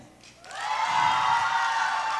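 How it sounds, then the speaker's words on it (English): A youth audience at a Scottish poetry slam final bursts into loud cheering and whooping, swelling quickly from near quiet into a dense, sustained roar of voices and clapping. "As loud as you can, clapping and cheering."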